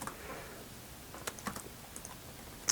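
Light computer keyboard typing, a loose run of scattered clicks and taps at an uneven pace, quiet and close with no talk.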